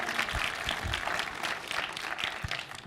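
Audience clapping steadily at a short-film festival closing ceremony, a dense, sustained round of applause from a full room with individual claps standing out near the microphone.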